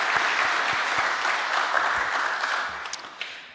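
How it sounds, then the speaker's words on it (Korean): Congregation applauding the church choir at an Easter Sunday service, a dense, steady wash of many hands clapping that tapers slightly near the end, with no voices over it. "우리 정말 다시 한번 뜨겁게 우리 성가대 위해서 축복하고 박수합니다."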